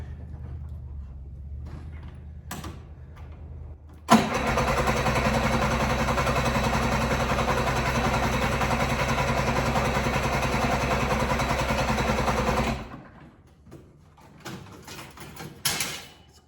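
A vintage snowmobile engine, choked for a cold start, catches suddenly and runs loud and steady for about eight seconds before cutting out, with quieter handling noises before and after.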